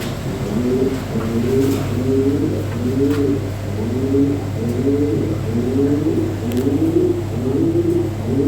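Frenchy and Mundian pigeons coo continuously and close by, with overlapping rolling calls repeating every second or so over a steady low hum.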